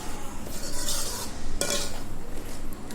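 A spoon scraping and stirring thick tomato paste for tomato thokku in a metal pan, with a few sharper clinks against the side and a faint sizzle underneath.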